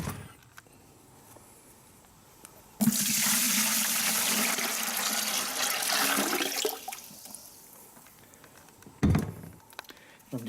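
Warm water pours steadily into a bucket to make a salt brine for tanning a fox hide, a loud rushing stream lasting a few seconds before tapering off, with a couple of thumps afterward.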